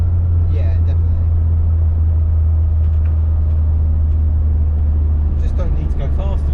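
A Ford Escort RS Turbo Series one engine drones steadily while driving, a deep, constant low rumble heard from inside the car with no clear revving changes.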